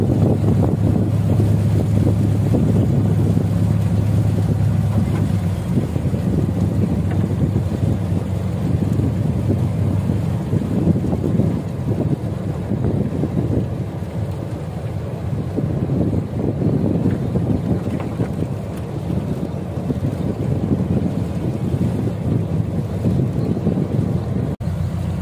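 A motorized jukung boat travels along a narrow river, its engine drone steady and loud beneath heavy wind buffeting and water rush, continuous throughout with no talk.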